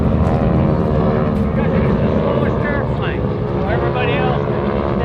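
A T-6 Texan propeller airplane at an air show, a loud sustained engine drone as it passes close overhead, with an announcer talking over it.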